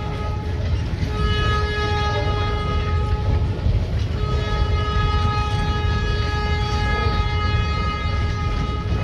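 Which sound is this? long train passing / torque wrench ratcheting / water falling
long train passing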